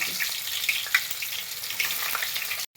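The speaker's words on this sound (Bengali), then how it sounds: "আর এই যে তেল গরম হয়ে গেছে, আমি এবার ভাজতে দেবো, ভালো করে ভেজে দেবো এঁচোড়গুলোকে" Boiled young jackfruit pieces fry in plenty of hot oil, a steady close sizzle that runs without pause and then cuts off abruptly.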